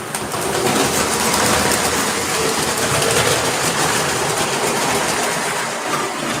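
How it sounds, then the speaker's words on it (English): A steady mechanical rumble and rattle of a small LEGO cargo train reversing along a track, constant in level with no voices. "So I want the cargo train to reverse into that"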